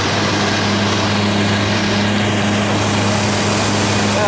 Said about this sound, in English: And the fan kicked on.